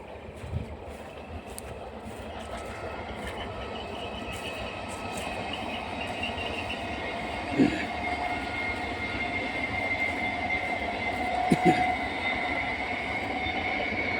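A train runs along a railway line beside an overgrown marshy field, producing a continuous rolling rumble and rattle of wagons, with a couple of brief squeals or clanks and no speech.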